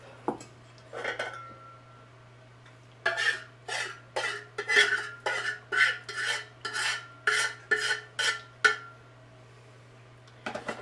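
A spoon scrapes and clinks through a dish of food with garlic and baby potatoes, a brief knock early on followed by about a dozen steady, rhythmic stirring strokes, close and fairly loud with no talking.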